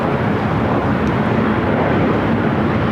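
A China Eastern airliner in a special livery departs LAX bound for Shanghai, its engines a steady, loud broadband roar that holds evenly throughout with no voices.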